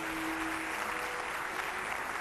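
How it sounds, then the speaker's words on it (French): Crowd applause at a public event, a thick, continuous roar of many people clapping together, steady and fairly loud from start to finish with no speech on top. "D'applaudissements pour Marema"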